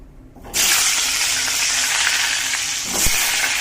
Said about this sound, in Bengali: কড়াই দিয়ে দিয়েছি আমি তেল। আলুগুলো আগে ভেজে নেব।